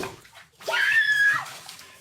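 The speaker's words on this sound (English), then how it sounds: "The chubby orange cat uses the shower head to rinse the bubbles off the baby." Water spraying from a shower head rinsing bubbles off a baby, a steady hissing wash that swells in and holds for about a second before easing off, with no talk.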